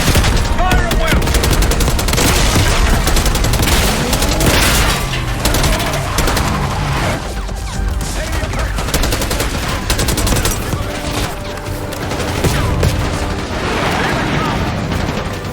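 Dense, loud gunfire fills the Call of Duty Black Ops 6 campaign mission, with overlapping automatic bursts, single shots and booming blasts rolling continuously from close range throughout.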